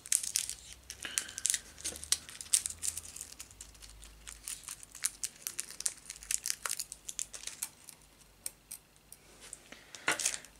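Adhesive tape is crinkled, peeled and pressed by hand to hold bolts on a plastic R2-D2 model leg part, with close, quiet crackles and small taps scattered throughout.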